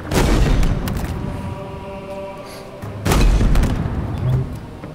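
Gunfire in the Halo Infinite campaign, loud booming shots in two heavy bursts with rumbling tails, close and dominant, separated by a quieter stretch of echoing reverberation.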